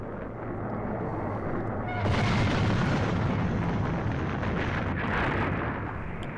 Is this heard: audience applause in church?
no